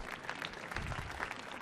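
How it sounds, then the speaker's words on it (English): A concert audience at the Millennium Stage claps steadily, a soft, dense wash of applause heard from some distance, with no voices over it. "so give yourselves a round of applause"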